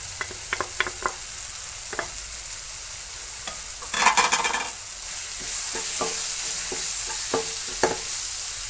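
Prawns frying in a pan while spice ingredients are added, a steady sizzle with stirring scrapes and a louder hiss burst midway, close and continuous with no talk.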